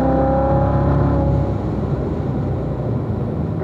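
A Corvette Z06 powers out of a corner on a hillside road course, its engine note rising steadily under throttle, loud and close, then settling into a sustained roar with no voices present.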